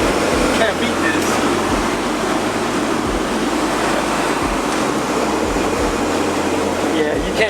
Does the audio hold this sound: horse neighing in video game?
no